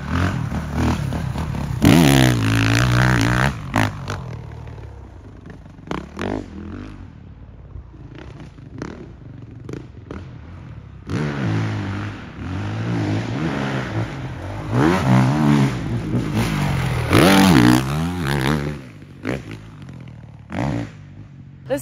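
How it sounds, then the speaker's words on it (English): A motocross bike rides alone on the Southwick track. Its engine revs and surges close by, repeatedly rising and falling as it accelerates and backs off, loud and continuous throughout. "Pet's literally the only bike out on the track right now."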